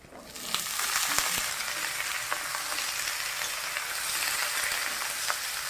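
Dried fish with potato and eggplant frying in a pan, a dense, steady sizzle with a few small pops and stirring scrapes throughout, close and without talk.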